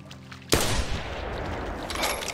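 A single hunting rifle shot in theHunter Classic, a sharp, loud crack after a quiet moment, followed by a long rolling echo that fades slowly outdoors.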